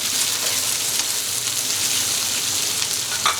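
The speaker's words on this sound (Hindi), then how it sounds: "यहाँ मैंने 2 शिमला मिर्च ली थी, वो हमने चॉप कर ली थी, वो मिक्स कर देंगे।" Chopped capsicum stirred into Chinese rice frying in a pan, with a steady, even sizzle held throughout at close range and no talk over it.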